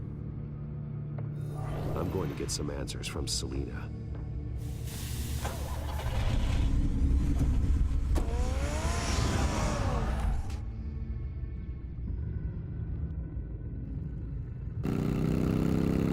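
A car engine from the video game Batman: The Telltale Series rumbles at a low, steady idle throughout, swelling slightly in the middle, with a voice talking over it and other game sounds layered on top.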